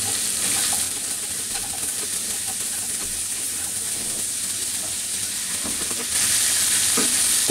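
Bottle gourd peel and shrimp heads get stirred in a hot pan, a steady close sizzle with soft scraping of the spoon running throughout and swelling a little louder near the end.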